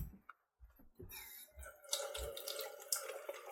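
Water running from a hot tap with a passing mixer tap, starting as intermittent gurgles and spurts, then settling into a steady hissing flow into a sink.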